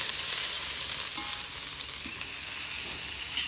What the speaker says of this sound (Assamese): ঢেকিয়া বলা বস্তুটো আসলতে পানী দি ভাজা বস্তু নহয়ে এইটো একদম ড্ৰাই কৰি ভাজি খোৱাহে বস্তু